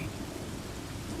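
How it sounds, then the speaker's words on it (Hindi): Heavy rain pours steadily at night, with a low thunder rumble beneath the dense hiss, a short, continuous wash of sound. "बाहर बहुत तेज बारिश हो रही है।"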